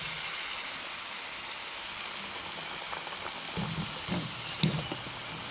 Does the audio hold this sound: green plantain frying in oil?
yes